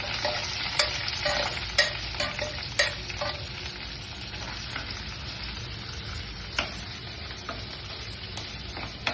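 Chopped ginger, garlic and green chilli sizzle steadily in hot oil for a home-style fish curry, with a spoon stirring and scraping in sharp, irregular clicks over the continuous frying hiss; no talking.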